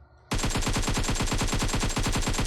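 Automatic gunfire in the PUBG Mobile video game: a long, rapid, evenly spaced burst starts abruptly after a brief quiet moment, loud and close, continuing to the end with only a tiny gap.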